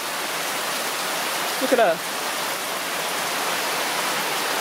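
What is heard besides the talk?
heavy torrential rain in Negril, Jamaica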